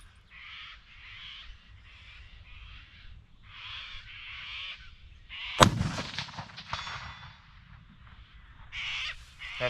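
A single sharp crack from a .270 Winchester rifle fired at a steel target outdoors, standing out among repeated crow caws before and after.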